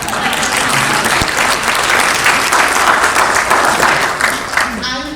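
A crowd at a real estate top producers event breaks into loud, sustained applause, many hands clapping in a thick, continuous wash with some voices mixed in.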